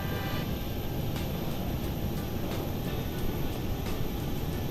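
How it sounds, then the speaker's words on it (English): A Boeing 737-700 airliner rolling in Microsoft Flight Simulator 2020, a steady broadband engine roar with faint periodic thumps, continuous and even with no voices. "Oh, 700 moving, man. Oh, baby Boeing moving"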